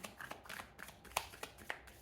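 Tarot cards being shuffled by hand in a quiet room, a soft continuous riffle broken by several sharper snaps as the deck is cut and squared.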